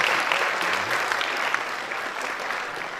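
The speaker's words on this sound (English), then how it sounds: "let's give all these guys, gentlemen, a wonderful round of applause" Audience applause at a Chamber of Commerce election primary forum for the candidates, a continuous mid-level wash of clapping from a modest crowd, with no talking over it.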